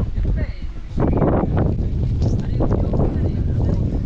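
Strong wind gusts roar across the microphone on the Anjaneri hilltop near Nashik, a loud, continuous rumbling buffet that swells after the first second and keeps blowing steadily.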